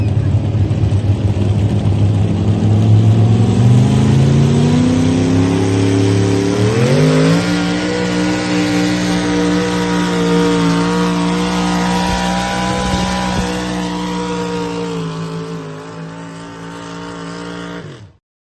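Pulling trucks at a West Coast Pullers truck pull event rev hard and loud, engine pitch climbing steadily then holding a sustained roar with rising harmonics for most of the stretch before cutting off abruptly at the end.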